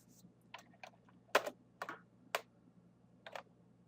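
Quiet keystrokes on a computer keyboard while typing into a browser address bar, a handful of separate clicks in an irregular rhythm, close and isolated with no talking.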